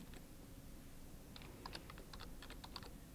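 Close, quiet clicking of computer keyboard keys as an email address is typed, in an uneven burst of keystrokes over a faint background hum, no voices.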